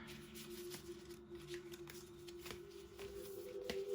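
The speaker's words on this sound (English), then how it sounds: "Yeah, quite difficult to shuffle. They're very large," Large tarot cards are shuffled by hand in a series of quick, close riffling and flicking bursts, soft and crisp, repeating irregularly with no talk over them.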